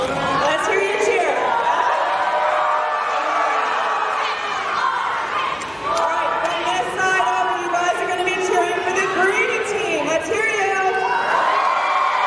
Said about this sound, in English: Let's hear you cheer.